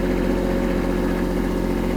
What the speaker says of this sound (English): we're driving the B2601 tractor with the new R14 tires on it